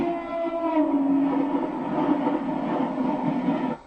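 Trains pass very close by, a loud, sustained rumble of wheels and rail noise with a drawn-out metallic squeal, ending in a sudden drop.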